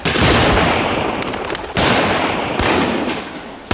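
Hunting gunshots in a German radio drama: a loud close blast with a decaying tail, then a second shot and a third, each sharp onset fading over about a second.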